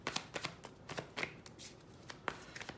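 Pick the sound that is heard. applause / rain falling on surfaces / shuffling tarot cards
shuffling tarot cards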